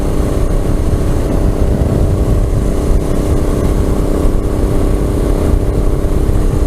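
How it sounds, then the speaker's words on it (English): A Harley motorcycle passes on a highway, heard while riding another motorcycle. Loud, continuous engine and wind roar fills the whole stretch without letting up, and nobody speaks. "hopefully you could hear that Harley"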